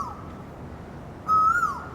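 A single bird calls from a tree in Singapore: a brief, loud, clear whistled note that rises slightly and then falls. It follows a quiet outdoor background. No one speaks.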